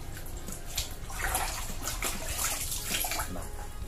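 Liquid organic fertilizer is stirred in a container until it dissolves, giving a steady, close sloshing and swirling of water that carries on without pause at moderate loudness.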